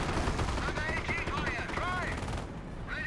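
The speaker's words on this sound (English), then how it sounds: "M1 AT gun shot down on the Hetzer" In the Company of Heroes video game, an M1 anti-tank gun fires at a Hetzer amid a constant din of battle: overlapping gunfire and explosions with a voice talking over the top throughout.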